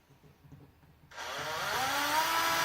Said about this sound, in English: make sure I'm drilling into it square. And start it up.